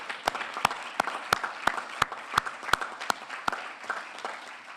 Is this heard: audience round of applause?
yes